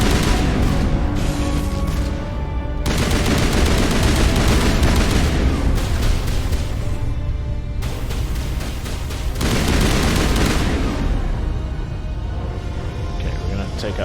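Gunfire from Geth turrets during a Mass Effect firefight, with bursts of shots and booms that come and go in waves over a dense combat bed while a voice talks through much of it.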